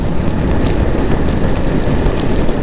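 Heavy monsoon rain pours steadily throughout a motorcycle ride in fog on the road from Bengaluru to Madikeri, a dense, continuous hiss with no voices heard.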